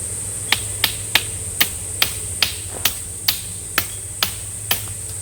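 Repeated hammer blows knocking mould-ridden, flood-damaged material loose, about a dozen sharp knocks at a steady pace over a constant low hum, fairly close, with no talking.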